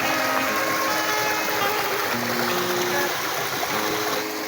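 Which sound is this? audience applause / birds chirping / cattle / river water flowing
river water flowing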